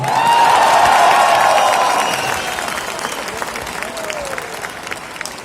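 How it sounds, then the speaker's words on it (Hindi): Loud crowd applause at a networking friends meet in Talkatora Stadium swells early, then eases to lighter scattered clapping, with a faint voice or tone running over it. "आप दे दे तालियां तो इस तरफ आवाज है"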